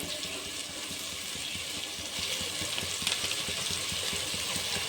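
Chicken for chicken sukka fries in a pan with red chili powder and masala, giving a steady, close sizzle with light bubbling and no talking.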